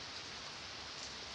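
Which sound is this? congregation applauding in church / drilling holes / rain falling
rain falling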